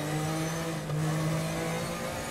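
A Nissan 300ZX Z32 IMSA GTO race car's turbocharged engine drones steadily at high revs around Sonoma in Raceroom, loud and close, with a faint rise in pitch partway through and no voices.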